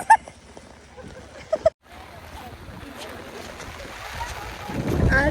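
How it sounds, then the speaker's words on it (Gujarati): Strong wind blows beside a village lake, buffeting the microphone in rough gusts that build louder toward the end, with a few brief sharp sounds early on. "ઓ ભાઈ બહુ પવન આવે છે."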